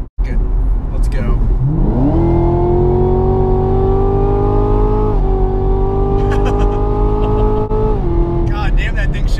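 A 2017 Camaro ZL1 pulls hard from a low roll, its engine roaring loudly as the revs climb in long sweeps broken by quick, crisp gear shifts; the sound is close and dominant, with a voice briefly heard near the end.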